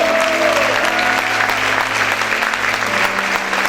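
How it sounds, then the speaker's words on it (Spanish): A church congregation claps loudly and continuously in worship, a dense wash of hands over a low sustained hum of music or voices, with a few faint tones drifting through. "Vamos a aplaudir fuerte a nuestro Señor."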